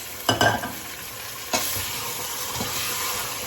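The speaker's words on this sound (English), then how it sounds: "Now time to add the meat. So the meat is going to cook in this for a bit." Goat meat drops into a hot pan of onion and ginger garlic mix for a turnip curry, a couple of sharp clattering hits and then a steady close sizzle with light stirring.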